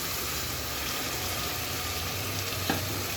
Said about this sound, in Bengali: ভেজে নেওয়ার পর এর মধ্যে আমি এখন বাকি মশলাগুলো অ্যাড করবো সয়া সস দিয়ে দিচ্ছি এখানে